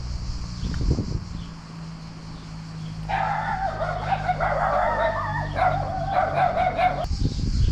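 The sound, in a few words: dogs barking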